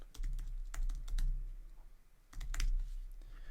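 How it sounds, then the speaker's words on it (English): Quick bursts of clicky keystrokes on a computer keyboard, close and fairly quiet, come in two clusters separated by a short pause. "I'm going to type out"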